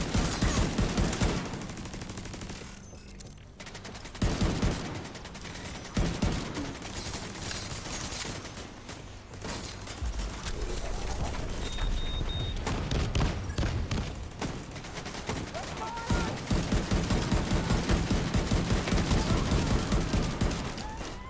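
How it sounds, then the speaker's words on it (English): Sustained gunfire in The Division 2 around a New York City map, dense volleys and bursts continuing almost nonstop over a heavy rumbling background, loud and close, with occasional brief pauses. "Shooting me from that side."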